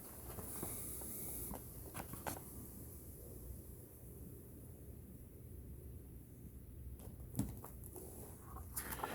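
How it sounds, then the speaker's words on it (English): Heavy rain pours steadily outside an open window on a windless day, a dense, even hiss of falling drops heard up close with a few faint clicks and knocks over it. "It's just pouring down rain right now, and there's no wind, so it's not even coming in the window."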